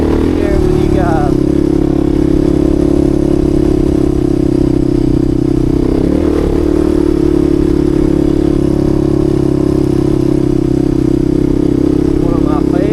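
A Suzuki DR350 dual-sport motorcycle climbs a dirt trail uphill, its single-cylinder engine droning steadily and loudly up close with a low, throbbing pulse and slight shifts in pitch as it pulls.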